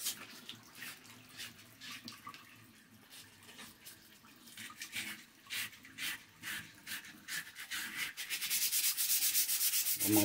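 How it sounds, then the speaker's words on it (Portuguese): 220-grit sandpaper is rubbed back and forth along a tonfa, a soft rhythmic scratchy swishing in repeated strokes, close by and fairly quiet, growing denser and faster toward the end. "Uma boa lixadinha."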